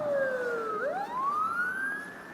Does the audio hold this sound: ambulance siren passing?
yes